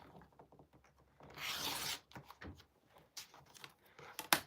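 Fabric scraps being cut for scrap quilting, a faint rasping rub and a longer scrape, followed by scattered light clicks and handling noises, quiet and close.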